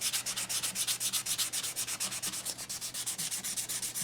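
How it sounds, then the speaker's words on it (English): Sandpaper rubs over milliput filler on a chipped Chinese porcelain bowl in quick, steady back-and-forth strokes, a close, dry, rhythmic scratching of about twenty passes with no talking. "I'm going to finish that off with a quick sand"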